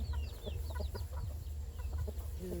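Chickens on a rice farm in Isan give short clucks and chirps, scattered repeatedly over a steady low rumble of background noise.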